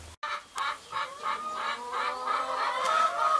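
Chickens clucking on a farm as they are offered sea urchin shells, a series of repeated close clucks and murmurs rising in a steady rhythm, with no talk.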